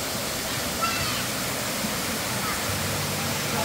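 Clear running water fills a children's pool at a resort, a steady rushing flow heard close and continuous with no pauses.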